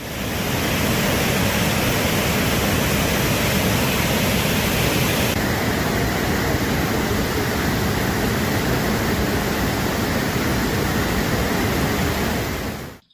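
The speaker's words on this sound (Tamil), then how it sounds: "இதனால் ஒகேனக்கல் காவிரி ஆற்றில் வெள்ளப்பெருக்கு ஏற்பட்டது." Heavy rushing water of the flooding Kaveri river at Hogenakkal falls, a loud, continuous broadband roar that stays steady throughout with no voices.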